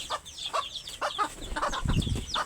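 Desi (native) domestic chickens cluck in short, repeated bursts close by, with one louder squawk near the end and no talk.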